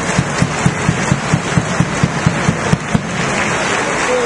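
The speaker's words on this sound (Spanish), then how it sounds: "Recibámosle con un fuerte aplauso." A crowd at a political event in Aguascalientes applauds, with clapping falling into a quick, even rhythm before it loosens into a steadier wash of applause.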